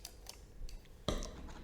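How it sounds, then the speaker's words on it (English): Scissors snip through a long tail of crochet yarn close by, a soft blade click and then one sharper cut, with quiet room noise around. "So go ahead and cut a long tail of yarn."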